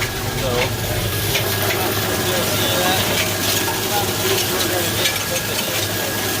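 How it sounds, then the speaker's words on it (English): A tractor idles quietly at about 1500 RPM while its power take-off drives a spreader throwing cereal rye cover crop seed. A steady low engine drone runs throughout, close and even, with a faint bit of talk. "yeah, the tractor is pretty quiet."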